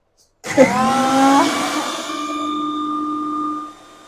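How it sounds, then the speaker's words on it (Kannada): A kitchen mixer grinder switches on with a sharp start, its motor whining up to a loud, high-pitched steady drone that holds for a few seconds and then cuts off. "ಮಿಕ್ಸಿ ಮಾಡ್ತೀನಿ"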